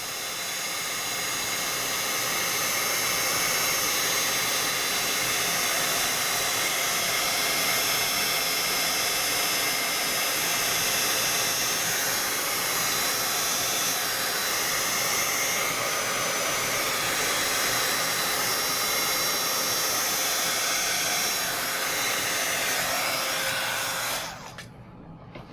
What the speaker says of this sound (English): Gonna pull out my heat gun one more time. And just melt that clear embossing powder.